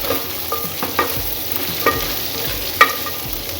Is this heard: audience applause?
no